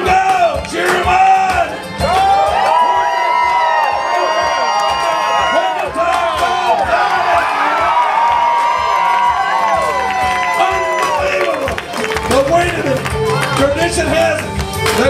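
A crowd cheers and shouts at a Canadian lumberjack show during an axe-chopping race, loud and sustained with whoops and children's voices rising and falling, and an announcer talking over the din.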